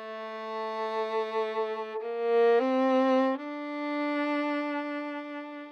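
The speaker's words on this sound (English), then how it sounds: "Let me find here's a nice little fiddle run." Fiddle run played alone and recorded through a Cascade VIN-JET microphone in a studio, a steady bowed melody stepping through sustained notes with rich harmonics, close and clear, no voices.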